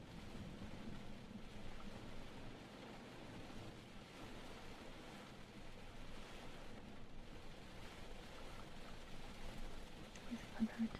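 Steady rain with low rumbling thunder surrounds a car during a rainy drive, a continuous, even wash of sound with no voices.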